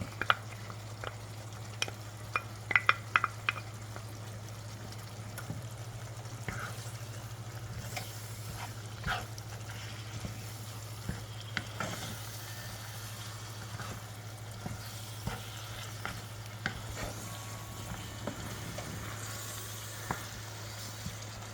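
Tomato paste sizzles in a pan of mince beef for one-pot spaghetti, a steady low frying hiss broken by scattered clicks and scrapes of stirring, close and fairly quiet with no talking.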